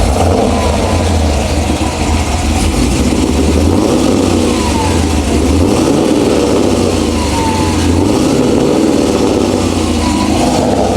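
A Mazda RX-8 fitted with an LS7 V8 engine accelerates, a loud, deep, steady engine roar close to the microphone that rises in pitch as it gathers speed, with no talk over it.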